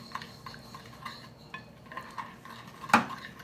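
A utensil swirls light corn syrup into butter and brown sugar in a dish for microwave caramel pecan rolls, giving soft repeated scraping and clinking strokes with one louder clack near the end.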